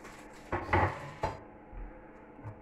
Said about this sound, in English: And then we'll gently slide this back into the pan.